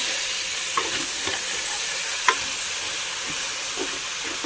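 Potatoes and carrots sizzle steadily in a hot pan for a vegetable curry, a constant bright hiss punctuated by a few distinct scrapes and taps of stirring, close and clear with no talking.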